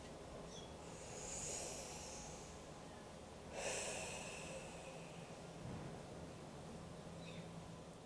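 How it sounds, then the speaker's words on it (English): Someone draws slow, deep breaths close by, with a sharp inhale near the start and another around midway, over a soft hissing background. "Everybody take a deep breath."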